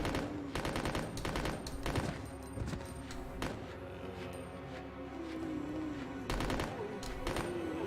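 Mini Uzi fire in Resident Evil: Code Veronica X, with repeated rapid bursts of automatic gunfire in quick clusters over a steady game background, fairly loud and heard without talk.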